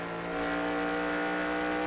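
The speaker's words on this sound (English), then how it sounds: "You heard that car kind of bogged down with the engine" A race car engine in a video game bogs down, droning at a steady high pitch without gaining speed, a continuous moderate whine with no voices.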